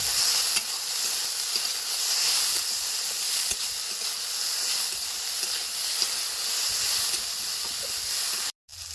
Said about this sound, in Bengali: নুন দিয়ে একটু ভাজা ভাজা করে নেব